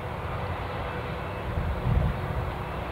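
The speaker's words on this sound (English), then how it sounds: "Let's go back to our usually fast taxiing KLMs." A KLM airliner taxiing at Newcastle International Airport gives a steady, distant engine rumble, with a brief swell near the end.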